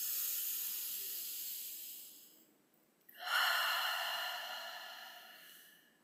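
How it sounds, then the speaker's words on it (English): Slow, deep breaths during a guided meditation: a long, soft airy exhale fades out, then after a brief pause a second full breath swells and tapers away, close and steady with no talking. "Two more nice deep inhales and exhales."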